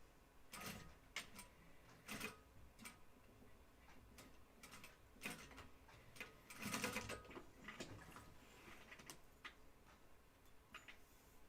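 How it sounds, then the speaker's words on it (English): A sewing machine stitching a flight suit gives short bursts of rapid ticking and clattering, separated by pauses and quiet handling noises, faint and close, with no speech. "Sew it a little bit."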